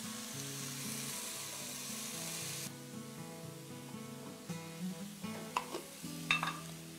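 Salted onion cooks gently in a pot, a soft sizzle for a few seconds that then fades. Light clinks of utensils and background music follow.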